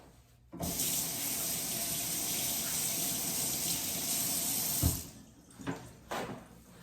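A tap runs at full flow for hand washing while preparing a boneless turkey breast, a steady close rushing gush for about four seconds that then cuts off, followed by a few faint splashes.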